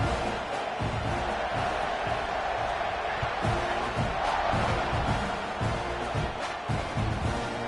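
Football stadium crowd in Tennessee roaring after a kickoff return, a broad continuous wash of cheering and shouting that stays steady throughout, with faint speech mixed in.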